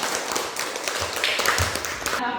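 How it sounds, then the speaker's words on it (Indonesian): A group of students at a vocational school session claps, a dense close patter of hand claps running throughout with a few louder taps, then cutting off abruptly at the end. "Oke, tepuk tangan."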